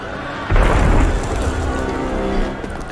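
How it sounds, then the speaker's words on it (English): A deep cannon blast in the video game Assassin's Creed Unity booms suddenly, then rumbles and rolls on in a broad low roar that slowly fades, heard alone without voices. "That was cannon fire."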